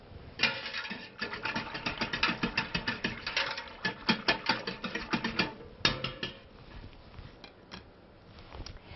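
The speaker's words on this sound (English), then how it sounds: "I'm going to use a whisk to make sure we get all the lumps gone." A whisk beats a pectin mixture for homemade jam in a pot, making rapid, rhythmic metallic clinks that are fairly close, then thin out and quiet down toward the end.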